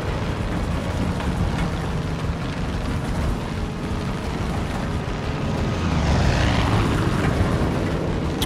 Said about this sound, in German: ein Flugzeug ist einfach unhandlich